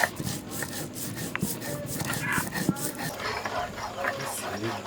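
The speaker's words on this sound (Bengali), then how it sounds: "বন্ধুরা, আমি এখন জিরে আর ধনে বেটে নিচ্ছি।" Soaked cumin and coriander seeds are ground on a grinding stone, giving a continuous gritty rubbing and scraping in quick back-and-forth strokes, close and moderately faint.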